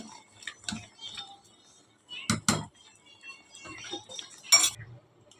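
A spoon stirs half a spoon of homemade garam masala powder into mango dal in a pot, giving a few scattered clinks and scrapes against the vessel, with sharp louder knocks near the middle and end.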